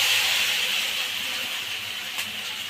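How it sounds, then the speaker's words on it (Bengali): Marinated soybean chunks frying in hot mustard oil in a wok give a steady, bright hiss that is loudest at the start and eases slightly, with one brief soft clatter near the end and no voices. "দেখুন এরকম আস্তে আস্তে 2-3 মিনিট ধরে ভালো করে ভেজে নেবেন"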